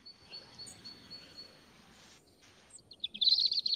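Bird call played during a children's sound-guessing game, starting as a faint thin whistle and ending in a louder burst of rapid high chirps.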